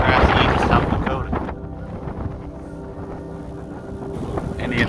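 Strong wind buffeting the microphone on the open grassy South Dakota plains during a bicycle tour, loud roaring gusts that ease briefly mid-way and then surge again.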